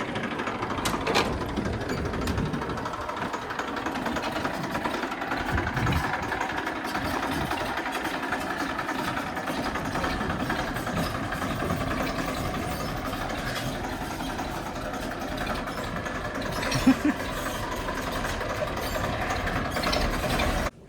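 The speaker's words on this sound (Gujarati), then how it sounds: "ટ્રેક્ટર આપણે પહેલી ટ્રાય અંદર નાખી દીધો" A tractor engine runs steadily nearby, a continuous rough diesel chugging with a faint mechanical clatter throughout.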